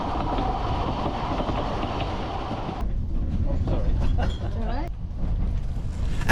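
Merddin Emrys, a heritage steam locomotive on the Ffestiniog Railway in North Wales, pulls its carriages through forest and valley sides with a loud, steady rolling rumble heard from on board; the texture changes abruptly partway through.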